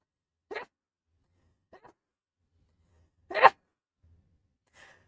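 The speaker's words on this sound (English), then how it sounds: "I've been needing to sneeze for 5 minutes, so excuse me." A person sneezes at a craft table, with one short burst and then a stronger sneeze a few seconds later, plus faint breathy sounds between them in an otherwise quiet room.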